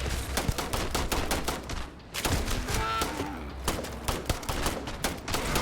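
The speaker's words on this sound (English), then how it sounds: "we shoot it once, and Andreja starts shooting" Starfield combat erupts in rapid gunfire, a dense barrage of overlapping shots and bursts from more than one weapon, loud and continuous with only a brief lull midway.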